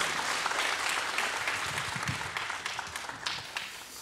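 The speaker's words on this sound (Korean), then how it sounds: "오늘 하나님께 영광 박수와 함께 우리 장로님에게 감사의 박수를 드리겠습니다" Congregation applause at a Friday prayer meeting in a church, a sustained, fairly even round of clapping that slowly tapers off.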